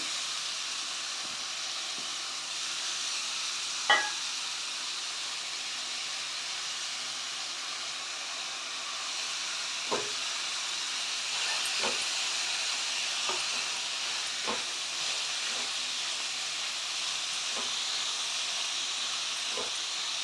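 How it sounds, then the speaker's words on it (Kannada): Cabbage fries in a pan over a medium flame, a soft continuous sizzle and hiss with occasional faint clicks and pops, quiet and steady throughout with no one speaking. "ಇದು ಮೀಡಿಯಮ್ ಫ್ಲೇಮಲ್ಲೇ ಫ್ರೈ ಆಗಬೇಕು"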